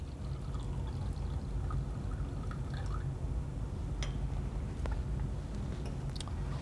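Water carrying light organic sediment is poured off from a beaker while processing microfossils, a steady liquid trickle with scattered small drips and splashes, close and fairly quiet.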